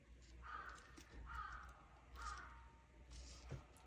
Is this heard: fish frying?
no